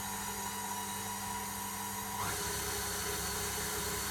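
An electric stand mixer whips orange-zested cream for syllabub with a steady, high-pitched motor whine, and the pitch shifts slightly halfway through as the speed is turned up, with no talking.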